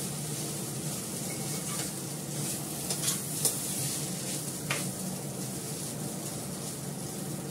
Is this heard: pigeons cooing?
no